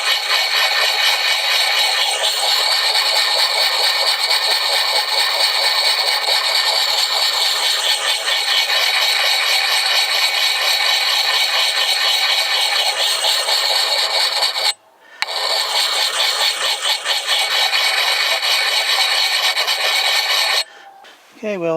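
A hatchet blade is ground on the coarse, oiled side of a sharpening stone in a long, steady rasping scrape that runs almost without a break, stopping briefly once near the middle and again just before the end, close and fairly loud.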